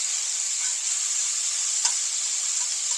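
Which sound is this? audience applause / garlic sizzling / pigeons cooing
garlic sizzling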